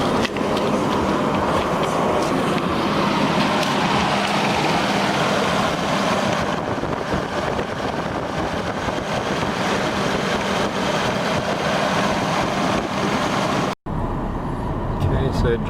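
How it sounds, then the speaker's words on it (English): A 1995 Nissan 240SX S14 with the KA24DE four-cylinder engine runs steadily and loudly throughout, with a brief dropout near the end, and the engine note sits under intermittent talk. "engine sounds fine."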